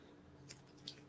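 Scissors snipping a plastic tag off a plush toy: two quick, faint, close crisp snips in a quiet room.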